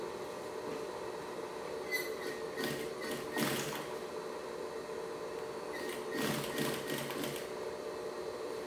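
A sewing machine stitches through the middle of a fabric toiletry bag with two compartments, running in a few short rattling bursts with pauses between, close but quiet over a steady background hum.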